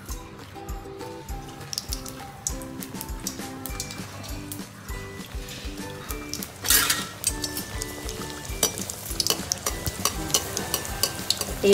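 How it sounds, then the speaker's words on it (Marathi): Anarsa sweets fry in hot oil over low heat, a continuous bubbling sizzle with occasional clinks and stirring, while a melodic music track plays underneath. "तेल गरम झाल्यावर आपण ते मंद आचेवरच तळून घेऊ"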